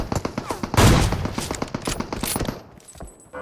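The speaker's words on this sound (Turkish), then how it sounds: "Arkadan da sıkıyorlar arkadan da." Rapid gunfire in a shooter video game: bursts of loud, close shots crackle for most of the span, with a heavy blast near the start and scattered shots trailing off toward the end.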